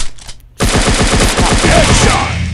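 Rapid automatic gunfire from enemies in a free offline mobile shooter game, a loud sustained burst of evenly spaced shots that starts abruptly after a brief quiet moment and continues to the end.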